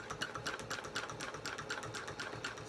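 A domestic sewing machine basting long stitches on a quilting frame, its quick, steady mechanical chatter running close and even throughout with a regular clicking rhythm.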